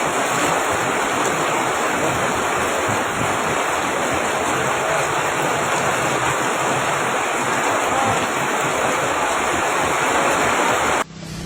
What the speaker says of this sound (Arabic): بص الموجه اللي بتيجي قدام العربيه